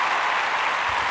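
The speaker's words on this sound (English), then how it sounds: "I will cut in a nice round of applause there" A burst of canned applause cut into a podcast, a uniform wash of many clapping hands heard alone for a brief second.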